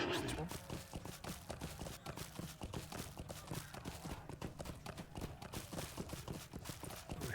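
Steady rhythmic hoofbeats of a horse clip-clopping along at a brisk pace in Lord of the Rings Online, Mirkwood, fairly close, with a busy game soundtrack underneath.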